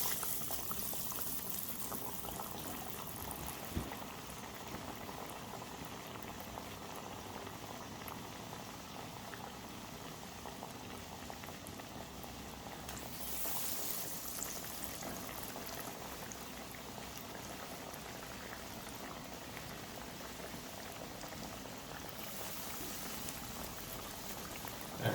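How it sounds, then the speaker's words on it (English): Fish nuggets fry in hot oil in a wok, a dense, even bubbling sizzle held at steady loudness for a long stretch, close and without voices. "Now oil is hot. We add the nuggets."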